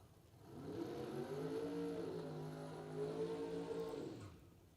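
A Camaro Roadster drag racing car at a bracket racing event gives a sustained, droning engine roar that swells in, holds steady, shifts pitch slightly and then cuts off, heard at a moderate distance with no talking.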